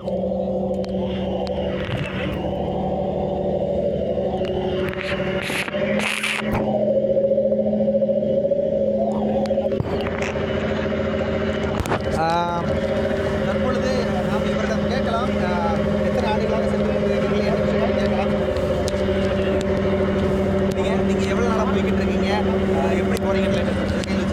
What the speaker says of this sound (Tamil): தற்பொழுது ராமேஸ்வரம் பகுதியிலிருந்து இந்த விசைப்படகு கிளம்ப தொடங்கிவிட்டது